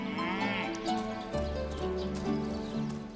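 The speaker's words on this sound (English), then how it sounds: "That is one big sheep." A large ram in the video game Divinity Original Sin gives loud, wavering bleats, repeated several times in quick succession over a low background, close and clear with no talking.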